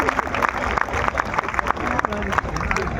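Audience clapping at a Holi poetry festival in Prayag, dense crowd applause with scattered sharp claps and murmuring voices, steady and fairly loud throughout.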